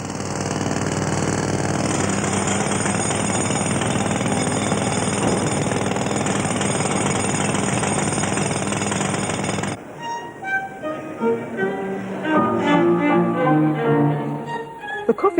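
Jackhammer breaking up the Victorian concrete floor of the King's Bath over a hot spring, a loud continuous pounding that cuts off abruptly, leaving quieter clatter and scattered knocks.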